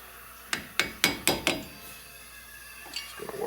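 A hammer strikes a pointed flathead screwdriver to work loose a ball joint on a Chevy Silverado, five sharp metallic hits in quick succession, then quieter clinking and shuffling afterward.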